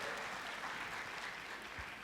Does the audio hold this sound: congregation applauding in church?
yes